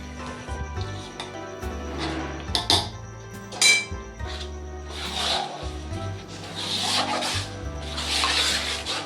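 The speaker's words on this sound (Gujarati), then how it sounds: "લોટ અને સાસણી બનાવી છે તે મિક્સ કરી લેવાની છે" Flour and sugar syrup being mixed in a pan for adadiya pak, with steady scraping and rubbing strokes and a few sharp metallic clinks, close and alone.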